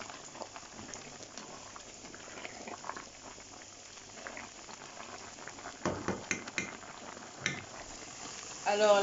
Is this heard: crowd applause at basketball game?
no